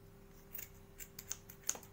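Scissors snip through a kitchen dish sponge beside a bathroom sink, a few faint, quick cutting clicks close by in a quiet room.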